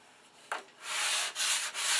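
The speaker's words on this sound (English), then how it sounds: "I start sanding with 400" Sandpaper of 400 grit rubbing over primed model aircraft parts, a P-47 Thunderbolt kit, in close, steady strokes. One brief scrape comes first, then a long continuous rasp broken by two short pauses.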